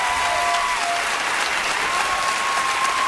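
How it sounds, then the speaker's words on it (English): Live show audience applauding steadily and loudly, a dense wash of clapping from a large crowd that continues without break. "I didn't say it just to get your applause"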